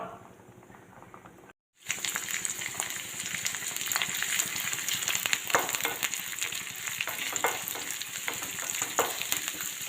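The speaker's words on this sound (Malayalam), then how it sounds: "ഇതിലേക്ക് നമുക്ക് കുറച്ച് ഉള്ളിയും കറിവേപ്പിലയും വറുത്ത് ചേർക്കാം" Onions and curry leaves sizzling in a pan, a brief pause then a loud, steady crackling fry with bursts of spattering and occasional stirring scrapes.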